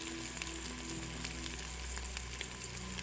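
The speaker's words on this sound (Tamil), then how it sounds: "கொஞ்சம் புதினா இலை, போட்டு நல்லா வதக்கணும்." Onions and mint leaves sautéing in a pan for egg biryani, a faint, steady crackling sizzle with a low background hum and no talk.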